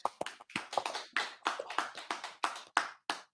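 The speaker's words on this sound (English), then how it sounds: "Y'all clap it up." Scattered audience clapping at a brotherhood class, a dozen sharp distinct claps in an uneven rhythm, close and clear, with no voices.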